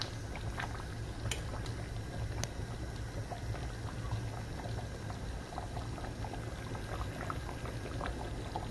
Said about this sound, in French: Donc là, ça commence déjà à bouillir.